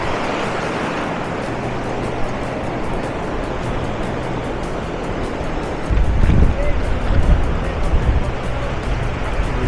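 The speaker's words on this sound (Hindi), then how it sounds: "ये आ रही हैं जी लहरें, ये आ रही हैं लहरें" Surf rolls in steadily at Varca Beach in South Goa, a broad constant wash with a heavier surge of waves near the end, and voices in the background.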